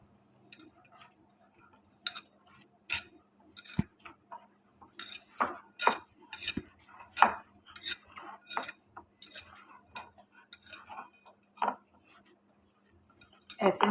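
A utensil clinks and taps against a bowl while suji dough is mixed with baking powder, irregular light scraping and clicking strokes alongside a low steady hum, with someone speaking at times.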